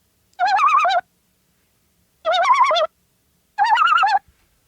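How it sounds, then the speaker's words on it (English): Three evenly spaced bird calls from an Ensoniq SQ-80 synthesizer patch, each a short warbling, pitch-wobbling hoot lasting about half a second, clear and isolated with silence between. "I thought it might be pleasant to have a couple of bird sounds in this set."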